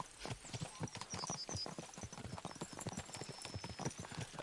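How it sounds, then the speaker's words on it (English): Horse hooves clip-clop steadily in a video game, a quick, even run of close, crisp hoofbeats that continues throughout without pause. "Okay, you see my horse, right?"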